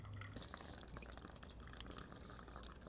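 Florida swamp water trickling and dripping through a hand-pumped backpacking water filter, a faint, close, uneven patter of drops with no talking.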